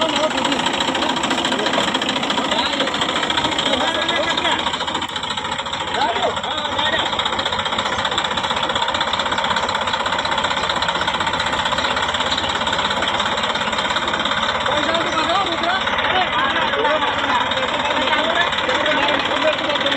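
An old tractor's engine idles with a steady, rough mechanical rumble that runs continuously throughout, while people talk over it nearby.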